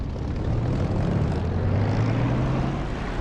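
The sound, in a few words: propeller aircraft engine throttling up in DCS flight simulator video game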